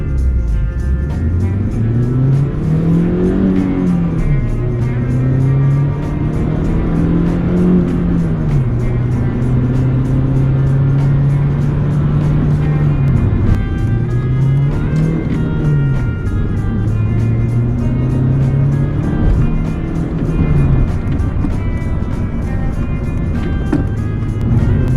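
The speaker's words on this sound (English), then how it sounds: "when I'm accelerating at full speed, just flat out as fast as I can" Honda Civic engine heard from inside the car while accelerating flat out at full speed, a loud droning hum whose pitch climbs, drops at each gear change and climbs again across repeated shifts.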